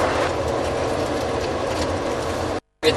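A Proton Persona SE sedan drives around a roundabout, with a steady engine and road-noise drone heard from inside the car that cuts out briefly near the end.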